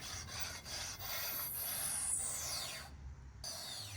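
Whirring, spacey noise from a Toyota MR2 wheel bearing, a faint rubbing drone with a high sweeping whine that glides downward, then briefly cuts out before resuming, no talking.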